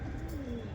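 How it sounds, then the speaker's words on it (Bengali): A Rampuri Giribaz pigeon in a loft gives a single soft, brief coo, faint and low against quiet background noise. "পুরো অ্যাক্টিভ পায়রা।"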